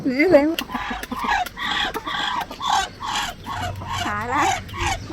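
Rooster among a backyard flock of hens and ducks, clucking and calling in a string of close, nasal bursts with some squawks.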